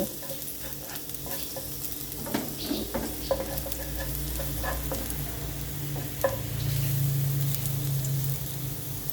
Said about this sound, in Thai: ผัดซีอิ๊วคะน้าเส้นใหญ่ค่ะ ใส่ไข่ ไม่ใส่หมู